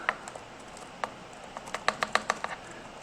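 Fingers tap on a computer keyboard, scattered single keystrokes at first and then a quicker run of close, crisp clicks, with no talking.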